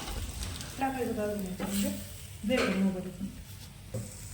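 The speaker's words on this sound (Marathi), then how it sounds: "तव्यावरती तेल टाकलं आणि त्याच्यावरती ह्या वड्या टाकायच्या आणि फ्राय करून घ्यायचं" Oil sizzles steadily on a hot griddle as fish vadas fry, with a person talking over the crackle.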